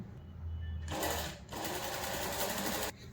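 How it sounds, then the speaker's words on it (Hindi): A sewing machine stitches skirt panels together for a kali kurta, running in two loud, steady whirring bursts separated by a brief pause, close up with no talking. "एंड तक मैं पाव इंच पे सिलाई देती हूँ"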